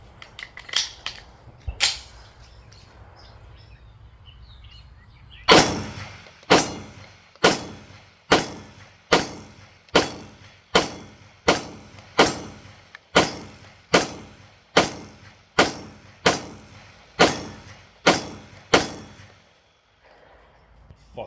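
Gunshots from a CZ Shadow 2 pistol: two early reports, a pause, then a steady string of about fifteen sharp, loud shots fired at an even pace, with faint background noise between them.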